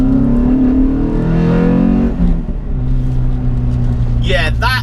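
A cammed, modified 194 bhp Renault Clio 182 engine revs hard and climbs in pitch, then eases off to a lower drone, heard up close from inside the car with someone speaking over it.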